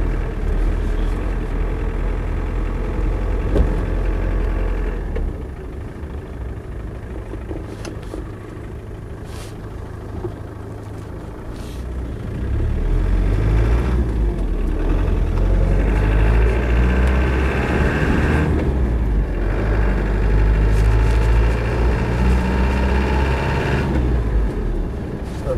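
A Land Rover 90 with a 200TDi diesel engine runs steadily on the road, a low rumbling drone that swells louder and rougher partway through as the revs rise, with no voices over it.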